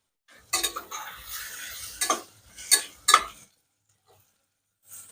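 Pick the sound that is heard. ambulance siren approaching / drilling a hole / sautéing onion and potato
sautéing onion and potato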